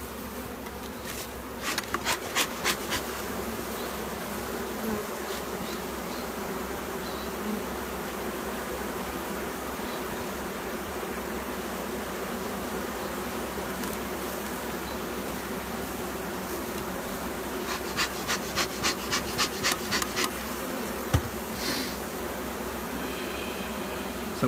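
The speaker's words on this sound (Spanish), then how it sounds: "Sacúdele ese marco, Antonio, de abejas." A dense, continuous hum of many bees buzzing close up around hive frames, with bursts of sharp clicking and tapping now and then.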